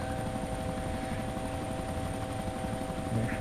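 Helicopters flying in the video game DayZ Origins, heard as a steady, loud rotor and engine drone that holds constant throughout with no voices.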